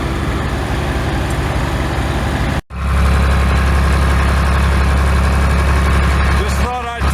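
A cold engine of an antique Corley 395 sawmill running loud and steady with a deep, rumbling low idle, briefly cutting out for a split second before resuming, with a voice talking over it near the end.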